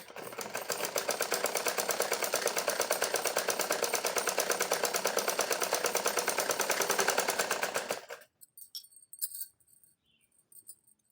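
A sewing machine stitches a blouse pleat with a fast, steady mechanical whirr for about eight seconds, then stops abruptly, leaving a few faint clicks and handling sounds.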